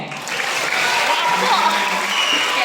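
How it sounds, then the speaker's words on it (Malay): Audience applause at an Islamic lecture marking Maal Hijrah, a steady wash of clapping that starts almost at once and holds at an even level through the short span, with no voices standing out. "Beri tepukan."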